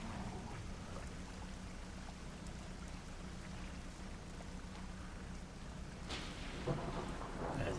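Steady rain pours down through a thunderstorm in Dredge, with a low rumbling bed throughout and a sharper crack of thunder near the end, all fairly faint.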